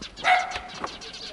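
A small Bolognese dog barks a couple of times, close by and fairly loud, with short sharp yaps standing out over quiet background noise.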